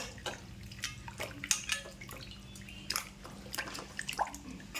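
Peeled elephant foot yam washed under running water, heard as faint, close splashing and dripping with irregular small knocks and sloshes.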